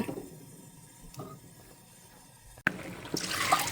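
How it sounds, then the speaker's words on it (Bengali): Masoor lentils being rinsed in water by hand, with close, soft sloshing and trickling that is quiet at first, then turns into louder, busier splashing and swirling near the end, with no voices. "ডাল ধুইছি দুই পদের ধুইয়া"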